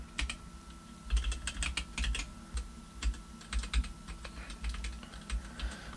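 Rapid bursts of keystrokes on a computer keyboard while coding a JavaScript project, clustered clicks with short pauses between runs, close and fairly quiet, with no voice over them.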